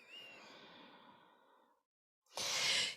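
A person breathes out during a stretching exercise with a long, soft exhale that fades away. After a brief silence comes a louder, breathy rush of air close to the microphone.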